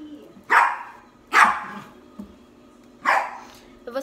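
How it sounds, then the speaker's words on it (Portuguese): A small pet dog barks indoors in the morning, three loud sharp barks spaced about a second apart, then a short yip at the end, close to the microphone. "Vai começar a latir, ó."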